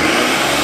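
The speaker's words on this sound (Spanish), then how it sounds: "A ver, encendé la licuadora para ver si es cierto." A kitchen blender running at full speed, a loud steady whirring drone that holds level throughout with no voices over it.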